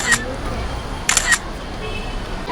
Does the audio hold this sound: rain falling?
no